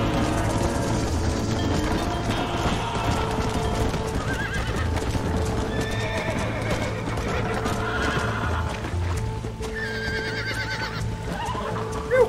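A horse in the video game Red Dead Redemption whinnies and neighs over continuous clip-clopping hooves, loud and close, with cattle and game ambience underneath and no clear talking.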